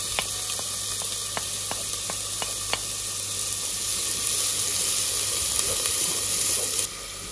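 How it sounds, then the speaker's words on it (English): Ginger, garlic and onion sweat in a hot wok with a steady, close sizzle, broken early on by a few sharp clicks and taps, likely a utensil striking the pan. "let's get in our ginger, our garlic and our onion, and we're going to sweat all that down"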